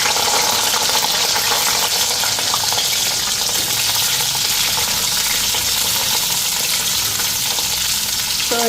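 Potatoes and cauliflower fry in a pan with a steady, loud, dense sizzle and crackle that holds unbroken, with faint stirring scrapes mixed in and no talking.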